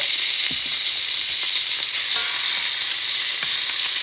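Wild boar medallions frying in a very hot preheated pan, a strong continuous close sizzle with a few faint ticks and clinks from the cookware.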